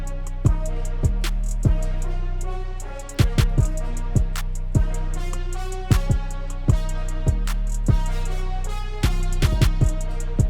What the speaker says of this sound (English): it's only natural that we extend the 808 to complement that.